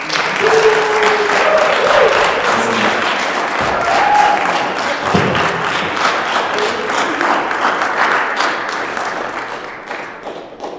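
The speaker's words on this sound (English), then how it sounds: "let's give him a big round of applause" An audience at a senior capstone presentation event gives a presenter a loud, sustained round of applause, dense clapping with a few brief voices mixed in, thinning out near the end.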